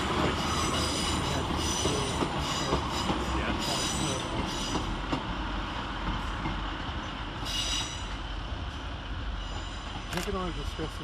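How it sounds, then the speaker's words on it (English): Northern Rail Class 150 and Class 143 diesel trains depart Chester station, with a loud continuous rumble of engines and wheels, squealing flanges and rail clatter, close and steady throughout. "we see the departure of 150, 150 and 150, 143 with the 1102 Northern Rail service to Manchester Piccadilly via Altrincham."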